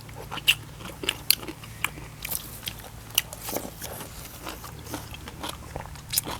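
Crunchy food, a Thai larb and papaya salad meal, is bitten and chewed close up in a steady run of crisp, irregular crunches and clicks, with no talk over them.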